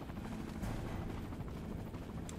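Helicopter in the Resident Evil 4 video game, a steady, loud rotor drone with low rumbling energy throughout, heard alone with no talk.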